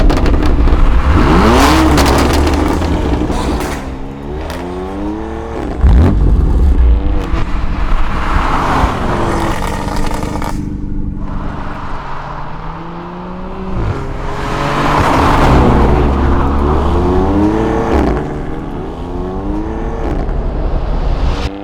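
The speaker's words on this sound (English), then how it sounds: "That right there is a one-of-one Ford Raptor pickup truck." Ford Raptor pickup truck engine revving hard in repeated bursts, loud and close, rising and falling in several long surges with brief quieter gaps between, and no talk over it.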